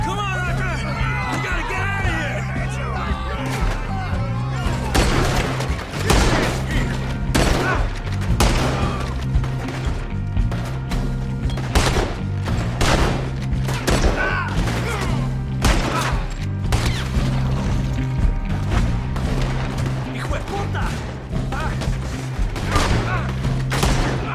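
Repeated loud gunshots crack in a firefight during a river boat robbery in the video game Red Dead Redemption 2, irregular shots layered over music and shouting voices throughout.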